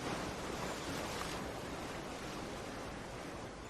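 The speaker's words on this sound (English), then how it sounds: "The ocean sounds are compliments of our very own John Bonzel." A played recording of ocean waves, a steady broadband rush of surf that holds an even level throughout, with no distinct breaks between swells and no voices.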